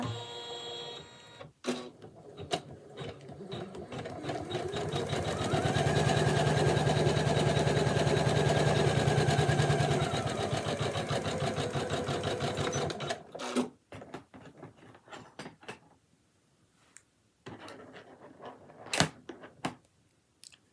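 A Janome Memory Craft 500e embroidery machine stitches a design with inbuilt fonts, its rapid mechanical whir running steadily and loud for several seconds before stopping, followed by scattered clicks and handling noises.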